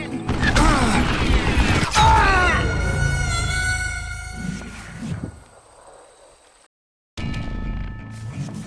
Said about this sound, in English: Gotta reload again.